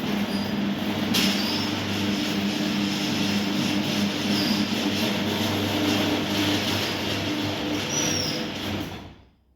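An old Pro Alpha 2000 garage door motor running, giving a steady loud mechanical drone with a low hum that holds for several seconds and then cuts off.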